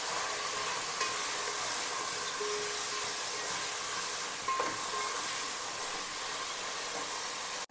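Vegetables sautéing in oil in a pan for veg pulao give off a steady soft sizzle and hiss, with faint occasional stirring clinks, fairly quiet and continuous.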